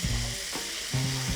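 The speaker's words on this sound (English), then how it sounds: "So we cut kumara and then we start frying to get a little bit of color until it's tender." Cut kumara sizzles and fries in a hot pan, a steady bright crackle with two bursts of louder spitting, close and alone without voices.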